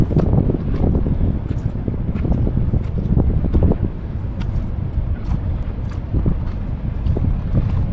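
Strong amihan-season wind on Biri Island in the Philippines, buffeting the microphone in a continuous low, rumbling roar with gusty bursts and no talking.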